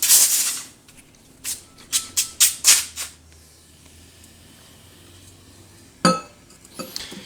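Baking soda shaken inside a plastic water bottle, a loud burst of rattling followed by a quick series of sharp clattering shakes, then a long quiet stretch and a couple of later knocks, close by with no voices.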